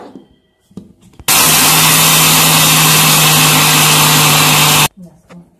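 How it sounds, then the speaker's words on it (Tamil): A mixer grinder whirs loudly and steadily for about four seconds while grinding spices for idli podi, starting and stopping abruptly, with faint handling sounds before and after. "இப்போ இதை நல்லா அரைச்சிக்கோங்க"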